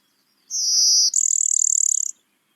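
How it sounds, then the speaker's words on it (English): Blue-winged warbler singing in Vermont: a single close, clear two-part buzzy song, a steady high buzz followed at once by a rougher, rapidly pulsed buzz, with silence around it. "This is the blue-winged warbler"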